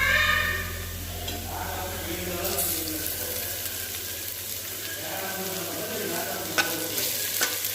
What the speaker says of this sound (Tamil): இதுவும் பச்சை வாசம் போக நல்லா வதக்கிக்கோங்க.